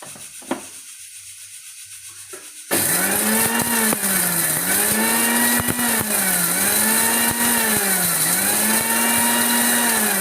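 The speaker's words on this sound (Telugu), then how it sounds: "ఈ లోపు ఇది మిక్సీ చేద్దామండి" A mixer grinder whirs into life abruptly and runs loud and close, its motor pitch swelling and dipping in a steady rhythmic cycle.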